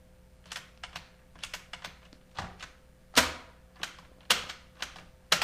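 The buttons on a Panasonic RQ-2736 slimline cassette recorder are pressed one after another, giving a run of sharp, close plastic clicks and clunks at an irregular pace with quiet gaps between them.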